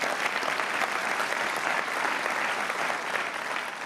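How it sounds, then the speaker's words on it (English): Dense, steady applause from a large keynote audience at the Tableau session of Dreamforce 2024, a continuous wash of many hands clapping at even loudness for the whole stretch with no voices standing out. "So let's give everyone a round of applause as well,"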